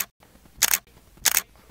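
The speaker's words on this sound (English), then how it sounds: "every time you click the shutter, you hear that loud" Two crisp mechanical shutter clicks from a DSLR-style camera shutter on a Phantom 4 Pro drone, evenly spaced, close and loud in a quiet setting.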